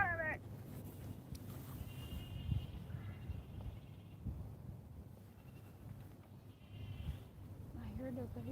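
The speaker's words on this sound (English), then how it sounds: "I heard the baby goat. I heard the goats." Baby goats bleating in thin, wavering high cries, a few at the start and more near the end, faint to moderate against a low hum and background noise.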